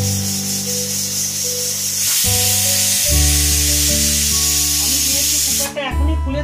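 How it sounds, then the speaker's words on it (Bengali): A pressure cooker on the stove, with a loud, steady hissing of escaping steam and strong low tonal hums that shift in pitch like a building whistle, with no talk. "এক্ষুনি সিটি পড়বে"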